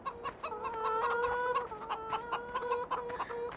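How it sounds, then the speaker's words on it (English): Chickens and a rooster cluck steadily in Farming Simulator 2013, a busy, close flock of repeated, overlapping clucks with no speech. "let's get out of here pronto before the chickens drive us insane. Especially that rooster."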